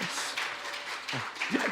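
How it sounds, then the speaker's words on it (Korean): A church congregation at a Sunday service in Houston applauding during a graduation certificate presentation, a soft, steady wash of many hands clapping heard from a distance, with no speech over it. "네, 박수 쳐주세요."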